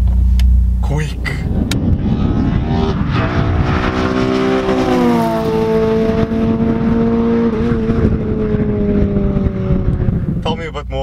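A Honda Accord with a K24A engine accelerates hard, its engine note rising steadily in pitch through a long pull from inside the car, loud and continuous, with a brief shift break partway.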